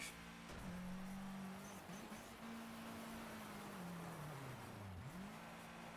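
A rally car in DiRT 2 spins donuts, its engine holding a steady drone at moderate loudness, then sagging and dipping low before climbing back up, with no voices present.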